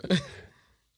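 A single sneeze from a person during a relaxed interview conversation: a sharp sudden burst followed by a brief breathy tail that fades out within a second, heard close and alone.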